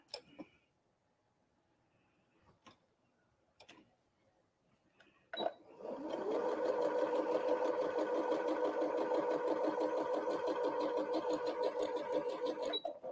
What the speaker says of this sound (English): now I'm going to sew on that laser line right down the center